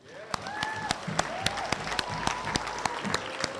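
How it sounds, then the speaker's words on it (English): An audience at a school quarter awards assembly applauds its teachers, with a dense wash of clapping broken by sharper individual claps and a few voices in the crowd. "Let's also have a round of applause for your teachers."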